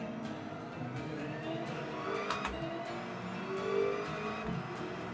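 Supercharged Demon engine swapped into a 2019 Toyota Tundra TRD Pro revving on a race track, a fairly faint steady engine drone with a supercharger whine, swelling slightly toward the end.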